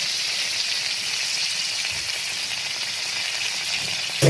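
Prawns frying in a pan with mustard, garlic, cumin and ginger pastes, giving a steady, close, even sizzle throughout with no talk, and a brief louder clatter right at the end.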